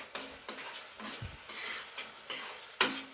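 Egg rice being sautéed and stirred in a pan with oil and turmeric: a soft continuous sizzle under repeated scraping stirs of a spoon against the pan, a few sharper metal clinks among them, close and moderately loud, no talking.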